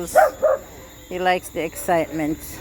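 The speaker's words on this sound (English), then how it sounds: "Why are you barking?" A pet dog at a home driveway barks repeatedly in short, fairly loud bursts with a slightly whiny tone, while a person speaks briefly.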